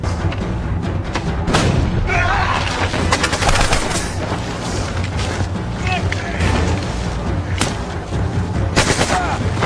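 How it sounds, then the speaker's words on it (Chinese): A World War II film battle in a jungle, with German and Soviet soldiers exchanging fire, rattles with loud, dense bursts of rifle and machine-gun fire and booms, mixed with voices. "德军边打边撤，伊万不幸中弹"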